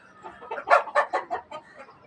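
Chickens cluck in a quick run of squawky bursts near a rooftop-garden chicken house, loud and close, with no talk.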